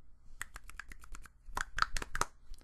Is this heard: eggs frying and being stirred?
no